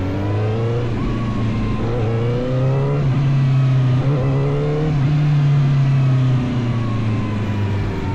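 A CFmoto 500SR motorcycle pulls away in first gear at low revs, its engine throbbing close and steady. The pitch rises and falls a few times with uneven throttle, and no one speaks.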